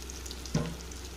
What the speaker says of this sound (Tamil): இந்த எண்ணெயிலே வேகட்டும்